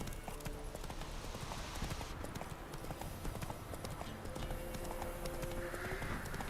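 Roach, the horse in The Witcher 3: Wild Hunt, trots with a steady, even clip-clop of hooves that carries on throughout, close and moderately loud over soft background game ambience.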